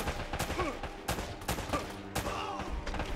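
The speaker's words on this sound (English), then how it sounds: "Pulling out my gun to shoot at this guy." Gunshots from the video game Uncharted, heard as a string of loud, sharp reports spaced irregularly about half a second apart, close up, with game voices and background action mixed in between the shots.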